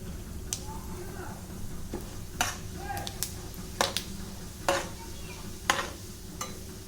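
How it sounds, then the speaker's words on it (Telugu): Tempering sizzles steadily in hot oil in a pan for an amla pickle, with sharp scraping and clinking strokes of a spoon stirring at intervals; the frying sounds close and continuous. "అదే ఆయిల్లో తాలింపు పెట్టుకున్నాం."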